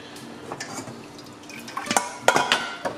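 Water splashes and trickles over nopales in a metal strainer, with clinking and dripping, growing louder toward the end in short bursts.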